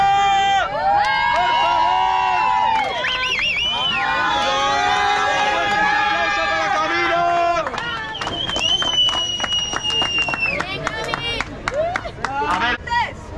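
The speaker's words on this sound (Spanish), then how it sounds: "¡Fuerte ese aplauso, gente, una vez más para Cate Ríos!" Crowd noise at an all-women jam session, with applause and cheers rising in a dense, loud wash under a continuous amplified voice and music-like tones running throughout.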